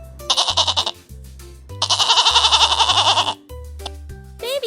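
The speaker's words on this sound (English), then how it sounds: "Goat." A goat bleats loudly and close by, with a short wavering cry followed by a longer, drawn-out quavering bleat, then a brief final call.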